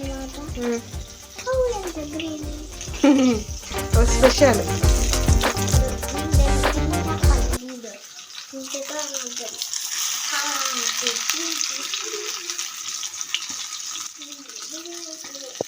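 Green fish frying in a pan with loud, steady sizzling and crackling of hot oil, close up, while someone talks and laughs over it.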